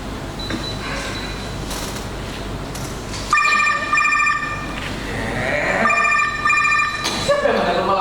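Telephone ringing at night in a stage play, bursts of bright electronic ringing starting partway in and repeating, over a room-tone murmur with voices in the background.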